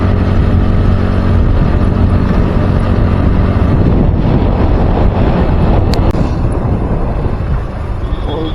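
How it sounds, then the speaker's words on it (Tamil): Strong wind roars and buffets past a moving motorcycle on a morning highway ride, loud and constant, and the engine hum sits underneath. "காற்று காலையில் போகிறதுனால அருமையாக அடிக்குது"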